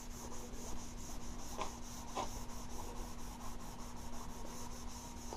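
Rust Free being rubbed onto a cast iron DeWalt scroll saw table, a quiet, steady scrubbing with rhythmic back-and-forth strokes over a constant low hum.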